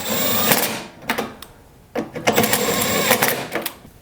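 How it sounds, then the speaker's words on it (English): An impact wrench runs in short bursts at a low torque setting, tightening the auger belt cover bolts on a Toro Power Max OXE 826 snowblower. The rattling, buzzing bursts come close and loud, with brief pauses between them. "tighten them up at a very low torque setting with the impact"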